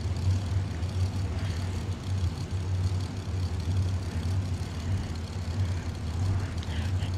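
Dragster engines at the Jegs Super Bowl of Bracket Racing throb in the distance, a low, steady, pulsing rumble heard from a grandstand, unbroken and moderately loud throughout.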